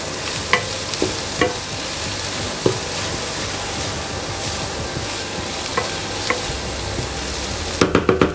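Ginger garlic paste sautéing with onions in a pan, a constant loud sizzle with scattered spoon scrapes and taps, ending in a quick run of clinks.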